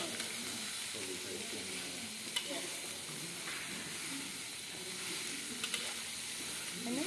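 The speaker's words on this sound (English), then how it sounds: "I never think of a cucumber in the frying pan." Steady sizzling of cucumber frying in a pan, a constant close hiss with occasional faint stirring clinks and murmured voices in the background.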